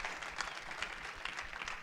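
A church congregation gives a short burst of steady, even applause for the King of Glory, a fairly quiet, continuous patter of many hands with no voices on top.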